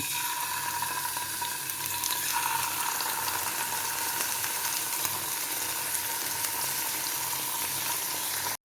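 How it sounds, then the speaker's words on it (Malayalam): Dried fish frying in hot oil for a coconut chutney, giving a steady, dense sizzle that carries on evenly throughout with no one talking. "ചൂടായ എണ്ണയിലേക്ക് മീനുകൾ ഇട്ട് കൊടുക്കാം"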